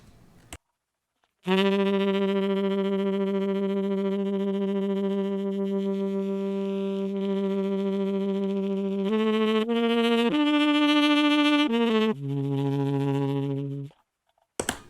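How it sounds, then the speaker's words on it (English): A long, steady saxophone tone through a Line 6 HX Stomp vibrato effect with a subtle wavering pitch, followed by a few shorter notes stepping up and down, played alone. "So here's the vibrato."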